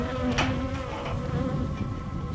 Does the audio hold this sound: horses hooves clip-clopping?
no